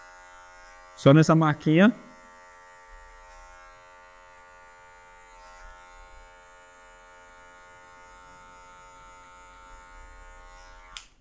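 An electric hair clipper with a guard cuts afro hair in a low social haircut, its steady buzzing hum running close and continuous after a brief spoken remark at the start.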